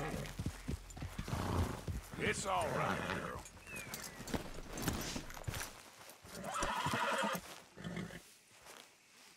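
A horse in Red Dead Redemption 2 whinnies and clops its hooves close by, with someone speaking calmly over the animal sounds.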